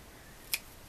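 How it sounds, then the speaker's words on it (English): A single quick snip of scissors cutting yarn from a knitted washcloth cuts through the quiet, short and crisp, close up. "So I'm going to take my scissors"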